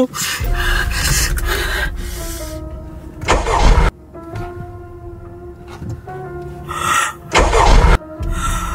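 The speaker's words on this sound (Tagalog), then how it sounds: "Ayaw mag-start ng kotse." A car engine cranks repeatedly without catching, two bursts of starter whirring separated by quieter stretches with a low idle-like hum and faint tones in between.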